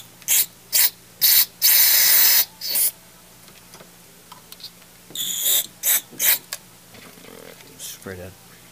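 Bursts of carb cleaner spray hiss onto intake manifold parts of a GM 3.8L 3800 Series II engine, several short blasts and one longer one, close and loud, with a brief clunk at the end.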